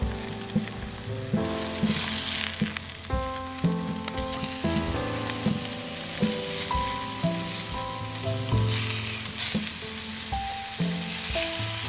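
Steaks sizzling on a grill over a campfire at a state park campsite, a continuous crackling fry hiss heard up close, with soft music-like tones running underneath.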